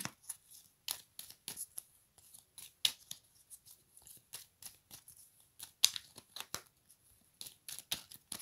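A deck of tarot cards is handled and cut, making a run of quick, crisp snapping and riffling clicks in irregular bursts, close and fairly quiet with no talking.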